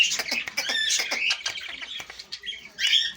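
Ring-necked parakeets chatter and call in a dense run of sharp, bright chirps and squawks, close and fairly loud, easing briefly before another burst near the end.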